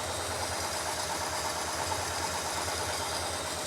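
A 1972 International Scout pickup engine idles rough, a steady low throbbing rumble with an uneven pulse, close and continuous with no talk.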